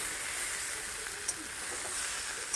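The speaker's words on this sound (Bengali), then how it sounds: "এই দেখো আমি কাঁঠালের ইঁচড় রান্না করছি, এটাকে কষিয়ে নিচ্ছি সমস্ত মশলা টশলা দিয়ে" Raw jackfruit and prawns fry with spices in a pan, giving a steady close sizzle and hiss throughout with a couple of faint clicks of stirring.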